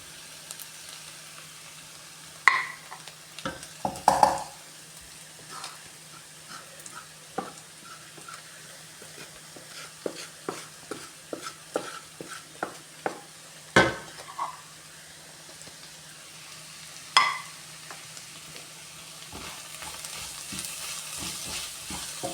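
Onions with coriander powder and pepper fry in a pan for a chicken roast, giving a soft, steady sizzle broken by scattered stirring scrapes and a few sharper clinks of a utensil against the pan.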